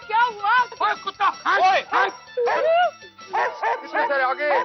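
A dog yelps and barks in quick, high-pitched bursts close by, mixed with voices talking in a domestic scene.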